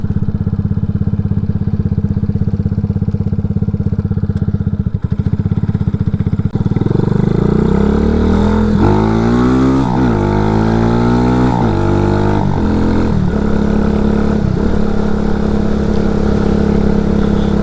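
A car accelerates hard through first gear, its engine note climbing steadily in pitch as revs rise over a steady loud drone, then dropping and climbing again near the end.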